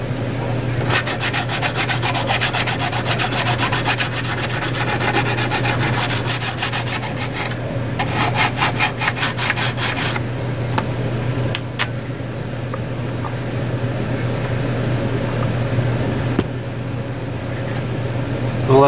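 Resin on a model airplane wing being sanded: close, steady rubbing strokes dominate for about ten seconds, then give way to quieter, sparser scraping.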